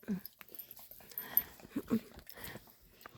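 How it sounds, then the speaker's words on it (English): Two dogs, a boxer mix and a young dog, making soft, close snuffles, whimpers and mouthing sounds in short irregular bursts at low volume. "They're two of my dogs."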